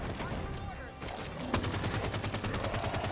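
Gunfire in the video game Halo 5: a burst of rapid shots followed by sharp repeated reports, with a player talking over the action.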